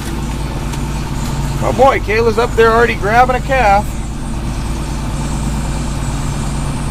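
A John Deere 4230 tractor idles at a low, steady throttle of around 1100 to 1200 RPM on a farm, a constant low rumble running under a man's nearby speech.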